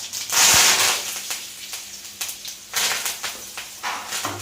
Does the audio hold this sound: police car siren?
no